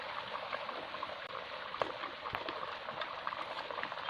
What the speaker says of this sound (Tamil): குழம்பு நல்லா கொதிச்சிருச்சு.